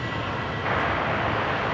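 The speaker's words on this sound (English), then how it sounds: "next departure, Qantas 631 off to Melbourne." Qantas airliner departing from runway 01 right at Brisbane International Airport, a steady broadband engine roar that swells partway through and holds at a distance, with no talk.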